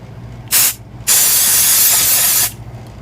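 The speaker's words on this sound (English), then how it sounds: "I'm going to spray the patterns with some mold release." An aerosol can of mold release sprays onto wax patterns in two bursts, a short hiss followed by a longer steady one lasting over a second, loud and close.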